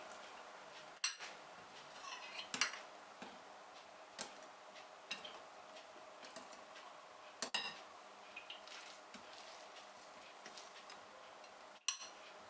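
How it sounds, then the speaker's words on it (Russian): A whisk taps and clicks against a bowl as cottage cheese is stirred into cake batter, with irregular light metallic ticks and a few sharper clinks, faint and close in a quiet kitchen. "И постепенно выкладываем и также венчиком подмешиваем."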